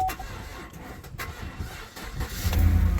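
A 2015 GMC Yukon with a 5.3L V8 cranks with a weak battery, a close, rough mechanical churning that swells in the last half second.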